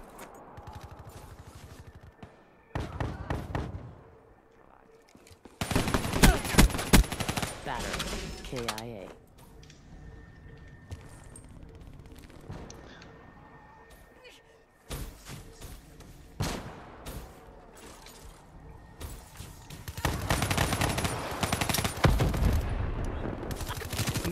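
Bursts of automatic gunfire from the Black Ops 3 shooter game come in several loud, dense volleys separated by quieter stretches, with scattered game effects and occasional talk underneath.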